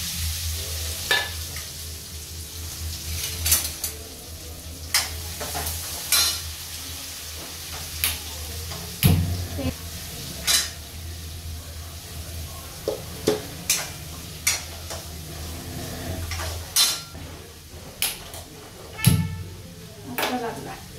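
Onion, potato and tomato tipped into a pan with asafoetida, giving a low steady sizzle broken by repeated sharp clinks and scrapes of a stirring spoon against the pan, with a few louder knocks.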